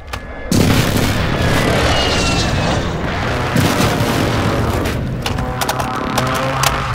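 Airstrike explosions in Call of Duty Warzone 2 erupt with a loud boom, then continue as sustained, rumbling blasts and crackling debris for several seconds, with sharper impacts scattered near the end.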